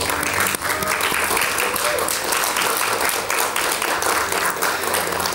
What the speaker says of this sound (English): Please join me in congratulating the graduates with a warm round of applause.